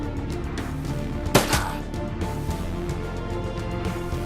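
Gunfire in the video game Shadowrun: Dragonfall, one sharp shot with a short echoing tail rising over a steady layer of game sound.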